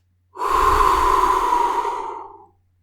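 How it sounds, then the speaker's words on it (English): One long, slow, calm exhale of about two seconds, close and breathy, swelling gently and then tapering away into silence. "Let's do some calm breathing together."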